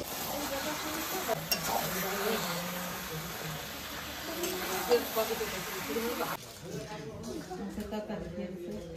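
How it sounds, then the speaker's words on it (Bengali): Chicken meat dropped into spiced masala frying in a pan, a steady loud sizzle and stirring that eases abruptly near the end, with voices talking over it throughout. "মশলা কষানো হয়ে গেছে, মাংসটা দিয়ে দেবো"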